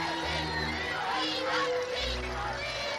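A crowd of about 10,000 people gathers on the Mall in London to see the royal family at the end of the war. The archival recording carries a dense, continuous roar of voices and cheering with shouts rising out of it.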